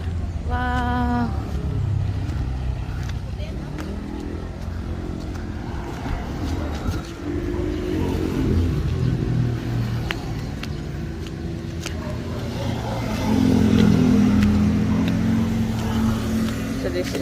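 Steady traffic rumble from vehicles passing on a main highway in a Philippine province near Mayon Volcano, engines droning continuously with a louder swell toward the end, recorded outdoors from the roadside.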